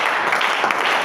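Congregation applauding inside a church during a sermon, a steady dense wash of clapping hands that holds at an even level throughout, close and continuous, with no individual claps standing out.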